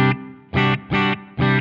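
Electric guitar through a Sonicake Matribox 2 modeler set to an edge-of-breakup amp tone with cab simulation and reverb: four short, evenly spaced strummed chords, bright and slightly gritty, each ringing briefly before cutting off, with no voices.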